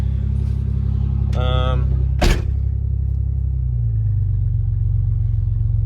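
An old GMC truck engine idles a bit high, a steady low rumble running throughout, with someone talking over it and a brief sharp clunk partway through.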